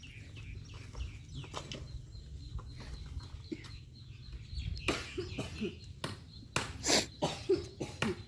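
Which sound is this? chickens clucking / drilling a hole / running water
chickens clucking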